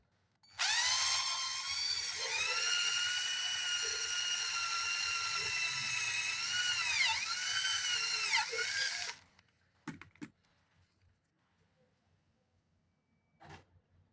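A cordless drill drilling a hole whines steadily for about eight seconds, its pitch dipping as it bites in, then stops, followed by a few clicks and quiet.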